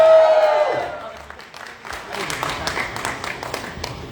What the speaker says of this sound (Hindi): एक ताली बजा के बता।